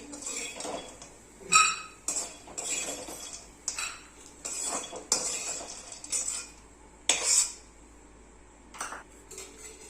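Fried food is scooped from a pan into a small bowl, with a series of distinct metallic clinks and scrapes of a spoon against the pan and dishware, spaced irregularly and close up, with no talking.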